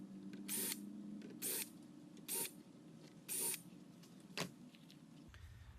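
A cordless drill with its clutch set low drives stainless steel screws into soft cedar on a storage bench, giving four short whirring bursts in even rhythm, close by with no talk, then a brief click.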